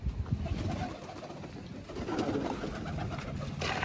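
Pigeons gathered around a water dish coo close by over a busy, noisy background. Low murmuring calls overlap for a few seconds and nobody speaks.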